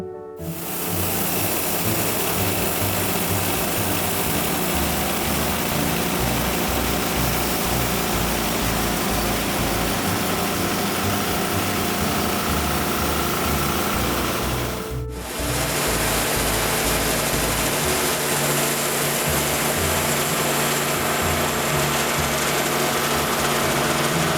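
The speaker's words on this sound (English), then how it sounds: "vertical bandsaw, very simple saw. Simple diesel engine and a blade that just runs around in a circle" A simple diesel engine drives a vertical bandsaw cutting a larch log into planks, giving a steady loud mechanical drone with a pulsing low chug, a short break midway, then resuming without talk.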